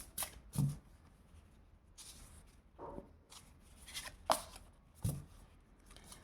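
Tarot cards drawn and shuffled, a handful of separate soft slaps and flicks spaced a second or so apart, close and quiet with no talking.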